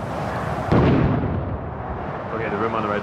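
A frag grenade in a video game goes off with one deep, booming blast that trails into a rumbling decay, with voices talking around it.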